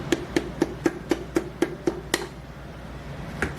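Light, evenly spaced hammer taps push a snug engine piston down through a ring installer, about nine sharp knocks in a quick steady rhythm, followed by a pause and one more tap, close and clear with no talk.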